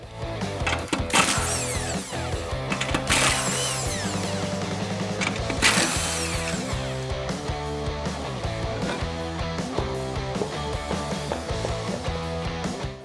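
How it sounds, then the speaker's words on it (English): A 19mm socket loosening the spare tire on a Jeep Wrangler JK, with ratcheting clicks, metallic clanks and rattling handling noises spread irregularly over the clip, close and fairly loud. "We'll begin this installation by removing our spare tire using a 19mm socket."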